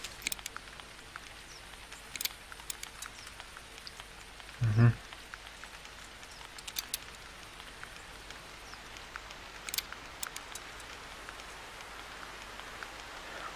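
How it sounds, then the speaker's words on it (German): Steady rain falls in the hunting game The Hunter 2013, a soft continuous patter with occasional sharper drop ticks, quiet and even throughout, broken once by a brief low thump. "Jetzt regnet es, sehr schön."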